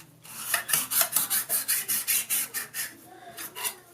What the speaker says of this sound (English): What I want to do is take off the burr that I just created with the file.